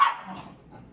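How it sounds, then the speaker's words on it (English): A single sharp dog bark inside an apartment, loud and close at the start, then trailing off into a faint whimpering tail. "we are here with the dogs barking in my apartment"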